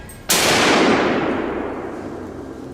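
One loud hunting gun shot fired outdoors beside a stream during a wild boar hunt, a sharp close blast followed by a long rolling echo that fades over a couple of seconds.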